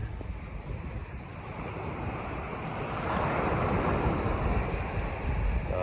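Waves roll onto a beach while wind buffets the microphone, a continuous broad wash of surf that swells louder partway through, with no voices.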